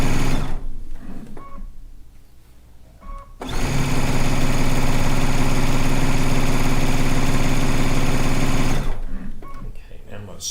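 Sewing machine stitching fabric strips for a stone log cabin quilt block, a loud steady whirring run of about five seconds after a few brief starts, with quiet handling noise around it.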